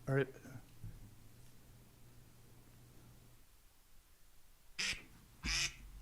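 A timer alarm that sounds like a duck quacking goes off in a county council workshop room, giving two short, loud quack-like bursts near the end after a quieter stretch with a brief earlier burst and some talk.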